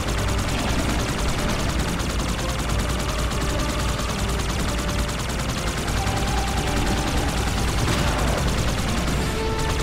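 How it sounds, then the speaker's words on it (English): Fuel rod cannon blasts in the Halo 2 video game, loud and continuous, mixed with dense gunfire and explosions throughout. "Hit B for your big fuel rod cannon"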